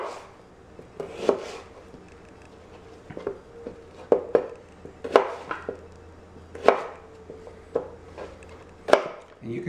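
A knife chops zucchini on a cutting board in a kitchen, with steady knocks spaced roughly a second apart, close and clear against a faint background hum.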